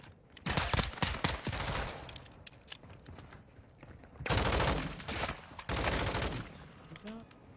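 Bursts of automatic gunfire in Call of Duty: Modern Warfare II, loud and close, arriving in several sharp volleys separated by brief lulls, with a voice speaking between the shots.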